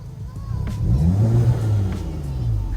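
A VW MK7 GTI fitted with an APR open carbon fiber intake revs up in sequential mode, a close, throaty engine note rising and holding briefly before easing off.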